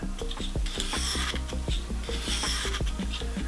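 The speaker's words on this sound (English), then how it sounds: "You need to push the stone in as you come down." Lansky Deluxe sharpening stone drawn along a knife blade from tip to hilt, giving close, repeated gritty rasping strokes in a quick uneven rhythm, with no talking.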